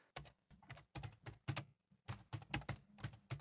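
Keys clatter on a computer keyboard in quick, uneven bursts of clicks, close and crisp, with brief pauses between runs of typing.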